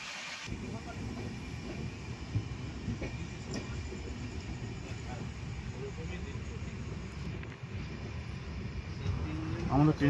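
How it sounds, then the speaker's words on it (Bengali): Padatik Express passenger train pulling into Burdwan Junction, a steady low rumble of wheels and carriage noise with faint rail clatter, continuous and close from inside the coach, swelling slightly at the end. "আমাদের ট্রেন কিন্তু বর্ধমান জংশন ঢুকে গেল।"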